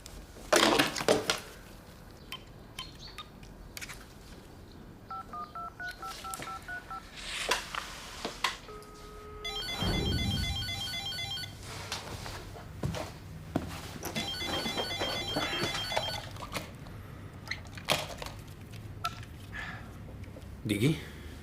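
Telephone tones sound in a drama scene: a string of dialing beeps, then a repeated electronic ring that goes unanswered, with voices talking around it and footsteps and household clatter nearby.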